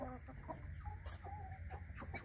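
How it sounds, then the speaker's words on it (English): A rooster on a farm clucks in short, low bursts, close by, over steady barnyard background noise, with a white rooster among the flock. "Now that big white one over there, pure white, that's another rooster."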